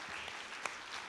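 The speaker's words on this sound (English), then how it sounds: "I want to give this panel a round of applause real quick." A short, faint patter of applause from a panel discussion audience, a quick burst of clapping in a hall with no talking.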